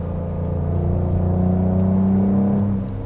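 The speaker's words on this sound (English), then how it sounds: "So this is the most intense mode that this car has. Oh, so you can hear the exhaust sound. It's even louder now" Ford Ranger Raptor pickup in Baja mode with anti-lag keeping the turbo spooling, its exhaust rumbling loud and steady, holding a deep drone that swells slightly toward the middle before easing off.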